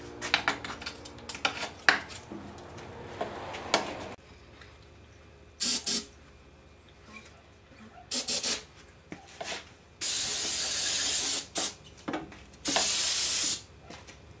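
Compressed air blasts salt out of a 15 HP Johnson outboard engine that won't cool, with rags stuffed in to protect the cylinders; loud hissing bursts of several seconds come in irregular spurts amid clanks and handling noises.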